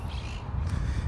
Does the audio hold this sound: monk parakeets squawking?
yes